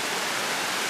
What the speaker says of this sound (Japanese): 山の上の方がへっこんでるとこういう風に